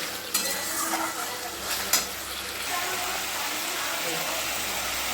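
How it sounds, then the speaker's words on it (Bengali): Spice paste with salt and turmeric cooking down in oil with a little water for a prawn malai curry, giving a steady close sizzle with a couple of sharper spatula scrapes near the start. "মশলাটাকে সামান্য জল দিয়ে বেশ কিছুক্ষণ ধরে একটু কষিয়ে নিতে হবে।"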